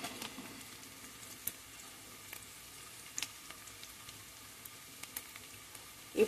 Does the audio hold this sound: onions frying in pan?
yes